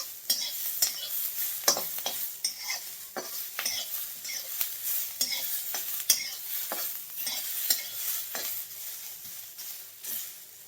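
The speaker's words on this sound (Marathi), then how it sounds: "हा कांदा आपल्याला गोल्डन कलरवरती भाजून घ्यायचा आहे बघा." Sliced onion fries in a little oil in a pan until golden, with a soft continuous sizzle and repeated, rhythmic scrapes of a spoon stirring nearby, no voices.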